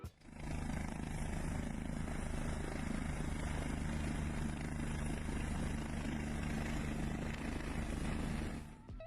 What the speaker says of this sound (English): how do you land a helicopter on the side of a mountain?